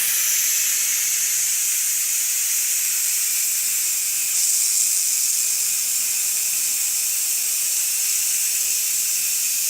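A steady, loud hiss of steam venting continuously from a Ninja Foodi pressure cooker during a quick release, unbroken and constant throughout with no voices.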